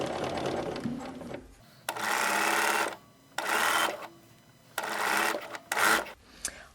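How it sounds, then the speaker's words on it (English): A home sewing machine stitches around the neckline of a caftan in three or four separate bursts, each a few seconds long, with short quiet pauses between them and no talking. "so I'm just going to finish stitching around this neckline"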